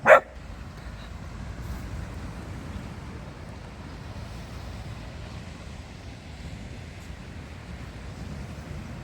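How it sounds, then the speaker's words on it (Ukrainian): A dog gives a single sharp bark at the very start by the sea on Odesa's Langeron beach at sunrise, then only soft surf and wind remain. "Досить гавкать."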